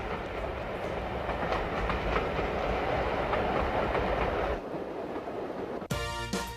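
1950s steam train runs along a line on the English Riviera, a steady rolling rumble with clickety-clack of wheels on rails, heard from nearby, ending in a brief sharp clatter.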